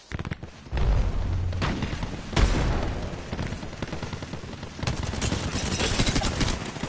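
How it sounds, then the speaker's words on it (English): Arc star grenade going off in the Apex Legends battle royale game, a busy run of crackling blasts and gunfire-like bursts with a sharp burst near the middle and a renewed loud flurry toward the end, dense and close throughout. "Throwing arc star."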